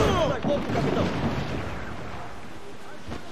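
Ships' cannons boom in a sea battle in Assassin's Creed 4 Black Flag, a loud burst of blasts up front that rolls off into a lingering rumble, with voices talking over it.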